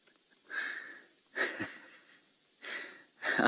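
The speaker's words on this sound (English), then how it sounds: "I can hear him snoring behind us." A person on a safari vehicle in the Mara Triangle snores with four raspy, wheezing breaths at a slow, uneven pace, close and moderately loud.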